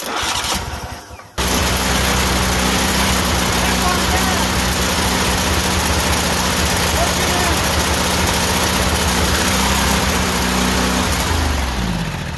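A Cub Cadet Super LT 1554 garden tractor engine is cranked, turning over steadily and loudly up close for about eleven seconds without clearly catching, and it winds down at the end.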